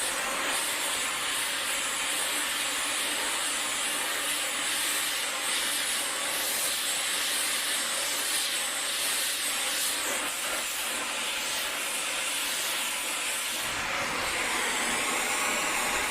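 Torch flame roaring steadily against a steel bar on a military-themed sissy bar in a shed, a continuous loud hiss with no talk, shifting slightly near the end.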